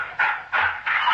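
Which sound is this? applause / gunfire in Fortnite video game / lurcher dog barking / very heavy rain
lurcher dog barking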